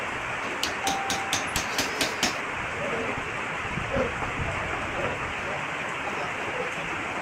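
Wooden pegs hammered into a teak Javanese joglo house frame: about eight sharp, evenly spaced strikes in quick succession, then steady outdoor background noise.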